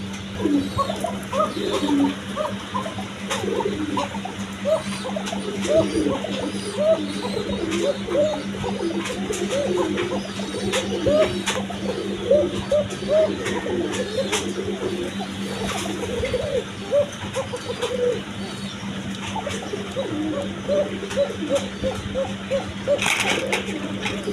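Pigeons of the Basiraj breed coo repeatedly in low, throaty bursts throughout, many birds overlapping at close to medium distance against a steady hum and faint background noise.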